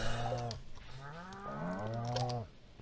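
Cows in the Stardew Valley video game moo in long, drawn-out calls, two overlapping moos heard clearly against faint keyboard clicking.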